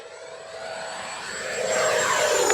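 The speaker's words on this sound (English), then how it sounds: "if you've never heard a plane scream, it's something else." An FMS Viper V2 70mm model jet flies past, its ducted-fan whine rising into a screaming roar that steadily grows louder and nearer, with no voices over it.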